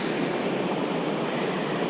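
Strong water flow below Fobney Lock on the River Kennet makes a steady, loud broadband rush, churning continuously without a break, like surf or heavy wind noise.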